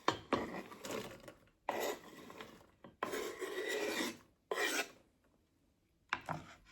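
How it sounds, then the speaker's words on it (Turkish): A knife chops onions rhythmically on a board in several bursts of rapid cuts, separated by brief pauses, close and crisp. "Diğerlerini de doğramaya devam ediyorum."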